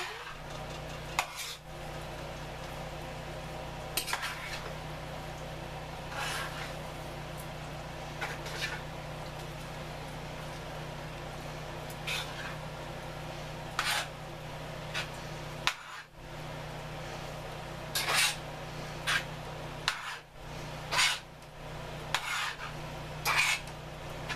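Tuna and shrimp puttanesca stirred in a pan with drained pasta, soft scraping and occasional utensil clinks against the pan recurring at intervals over a steady low background hum, close and fairly quiet.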